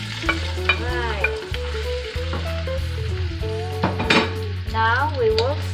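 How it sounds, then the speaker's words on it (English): Marinated beef for a Filipino beef afritada stew fries and sizzles in a pot while being stirred, with a few utensil scrapes and clinks against the pot, all under steady musical tones. "We will stir it until it's turned into a little bit brown."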